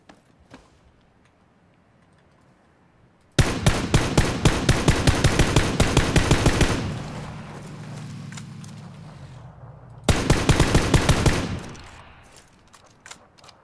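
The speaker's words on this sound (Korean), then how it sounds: "총소리 그 더럽게 시끄럽네" Automatic gunfire in the video game PUBG (Battlegrounds) rattles in two rapid bursts of evenly spaced loud shots, the first lasting about three seconds and the second about one, with quieter game ambience in between.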